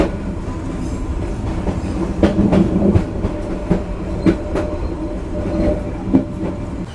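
Kahuripan passenger train pulling into Kroya station, a steady close rumble of rolling wagons with rhythmic clickety-clack wheel beats throughout and no voices.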